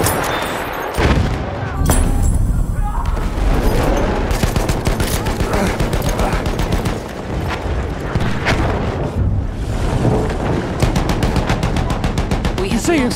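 Heavy machine gun fire and surrounding battle noise from Battlefield 1 fill the whole stretch: dense rapid bursts of shots, booms and explosions, loud and continuous.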